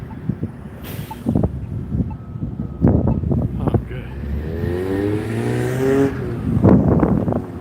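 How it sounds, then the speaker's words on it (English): A Mazda Miata sports car engine revs and passes close by on a gusty downtown Las Vegas street, its note rising and falling with bursts of acceleration amid wind noise. "That's a sick sounding Miata."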